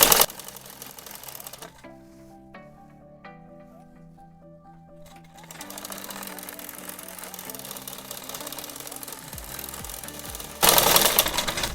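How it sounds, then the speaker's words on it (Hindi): A sewing machine stitching a child's umbrella frock, running in short bursts with a rapid mechanical chatter, pausing between runs, then a loud continuous run at the end. "पूरे नीचे तक सिलाई लगा देनी है।"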